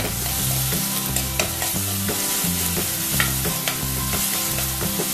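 Curry leaves sizzling in a pan over a medium flame, a bright steady fry overlaid with repeated scraping and clinking strokes of a spoon stirring, close and fairly loud.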